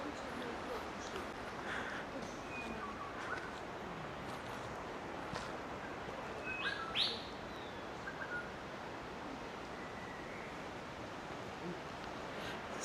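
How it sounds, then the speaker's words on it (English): Birds call in the Daintree rainforest, with scattered faint chirps and one brief louder whistle over a steady hiss of forest ambience. "Some birds."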